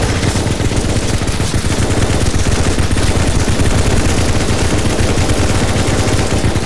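Rapid automatic gunfire in the CS:GO zombie escape mode on the cyberpunk map, loud and continuous with dense overlapping shots from several weapons and no talking.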